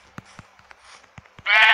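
A sheep gives one loud, close bleat near the end, preceded by scattered soft taps and shuffles in a quiet farm setting.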